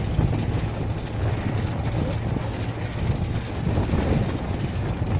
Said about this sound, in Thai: โอ้ย ลมแรง ลมแรงสัสๆเลยจังหวะ